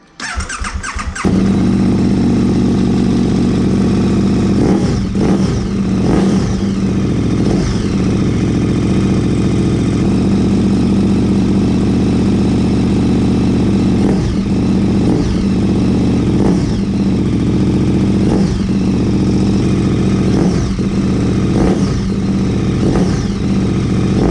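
KTM motorcycle engine running after a RaceTorx throttle spacer install, starting up and then holding a loud, close, steady idle with a series of quick throttle blips and revs.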